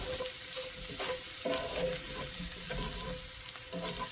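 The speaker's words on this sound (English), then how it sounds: "Just kind of keep stirring." Potatoes fry in a pan, crisping as they are stirred, with a constant soft sizzle and repeated scraping, shuffling strokes of the spatula close by, and no talk.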